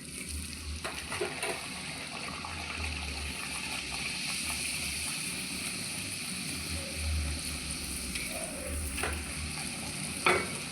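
Luchi deep-frying in hot oil in a kadai gives a steady, dense sizzle that runs unbroken throughout, with a few brighter crackles and a soft clink near the end.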